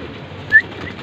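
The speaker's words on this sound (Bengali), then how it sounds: "হাতের যে কবুতরটা দেখতে পাচ্ছেন এটা হচ্ছে একটা চুইনা মাদি কবুতর।" A female Chuina pigeon gives a single short, soft call close by, rising briefly above a quiet background.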